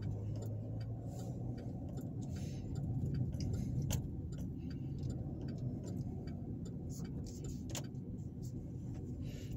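A car cruises through Marion, Alabama with a low, steady road rumble inside the cabin, a faint rhythmic ticking like a turn signal and scattered small clicks and rattles, no talking.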